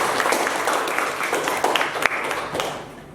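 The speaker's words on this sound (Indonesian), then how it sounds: "Tepuk tangan untuk Mas Panji." Classroom applause for a student, Mas Panji, with a moderate burst of many hands clapping together, steady and fairly close, tapering slightly near the end.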